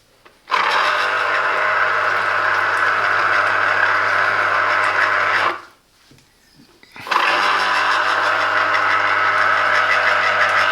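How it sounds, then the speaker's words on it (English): A Silvercrest SZP 25 D4 citrus juicer motor juicing a lemon whirs loud and steady up close, cuts out for about a second and a half, then starts again and keeps running. "that's the Silvercrest citrus juicer with its efficient motor"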